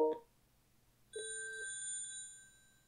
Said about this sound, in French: ici vous allez voir que mon téléphone va sonner.